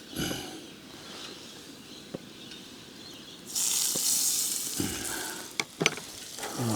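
Butter with olive oil and garlic sizzling in a camp oven outdoors: steady frying hiss that swells midway, with a few sharp clicks and scrapes of stirring, close and moderately loud, no talk.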